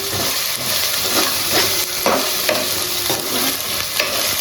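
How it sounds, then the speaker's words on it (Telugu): Spice paste for chicken curry fries in a pan with a loud, continuous sizzle close up, broken by regular scraping stirs, with no voices. "పేస్ట్ వేసిన తర్వాత పచ్చివాసన పోయేంత వరకు వేయించుకోండి."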